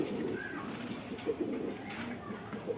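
Lahori Sirazi pigeons in cages coo softly and repeatedly, several low warbling calls close by against a faint background hum.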